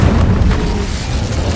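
Incendio fire spell cast in Hogwarts Legacy, a steady low rumbling whoosh of flame with a booming, explosive body that sustains evenly for under two seconds, loud and close with no voices.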